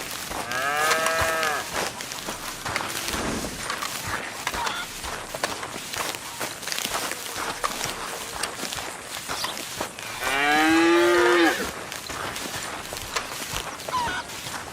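Cattle low on John Marston's small farm in Red Dead Redemption 2, two loud drawn-out moos a few seconds apart over soft footsteps and ambient farm noise.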